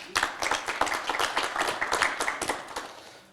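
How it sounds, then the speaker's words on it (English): An audience at the Budapest Energy and Security Talks 2024 energy conference applauds a speaker, with steady dense clapping from a room full of hands and no talking. "Please give him a round of applause."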